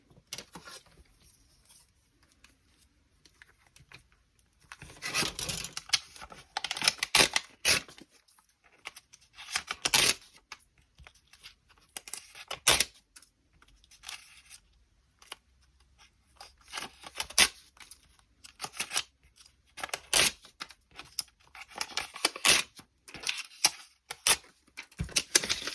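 Paper is torn by hand for a junk journal, tearing off a bottom edge in several short crisp rips and crinkles scattered through otherwise quiet stretches.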